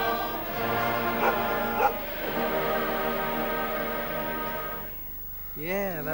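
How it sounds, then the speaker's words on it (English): A dog barks and yips in short bursts among voices during a Christmas studio broadcast from 1984, with people talking and a melodic tone at the end. "who barked all the way through the last verse?"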